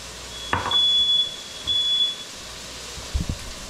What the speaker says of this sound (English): I got the fire alarm to shut off